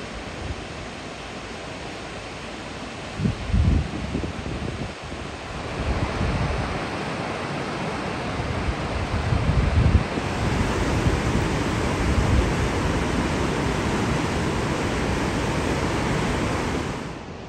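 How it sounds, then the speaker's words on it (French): Powerful river rushing along the Afghanistan border, a steady loud roar of churning water filling the whole stretch, with wind buffeting the microphone and a few low thumps. "Et la rivière, tu as vu la force qu'elle a."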